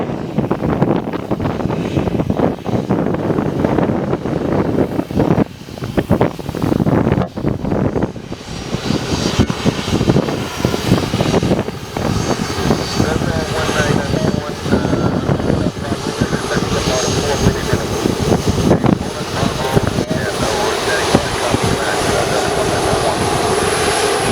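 A Boeing 737 jet airliner departing St. Kitts, its engines roaring loud and continuous from a nearby outdoor spot, with wind buffeting the microphone throughout.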